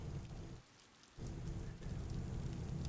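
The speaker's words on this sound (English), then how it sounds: "Ooh. Rain." Steady rain in the video game Mahoutsukai no Yoru patters and hisses continuously, with a low rumble underneath and a brief dip in the downpour partway through.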